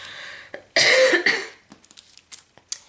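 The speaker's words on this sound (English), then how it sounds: "I'm going to cough, I'm so sorry." A single harsh, loud cough bursts out close up, followed by a few quieter throat sounds and small rustles.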